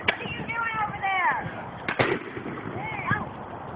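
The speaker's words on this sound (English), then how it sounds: "We got another little mortar thing going in here." A small mortar firework launches outdoors with rising whistles and then sharp pops and bursts, fairly close, while voices are heard at times.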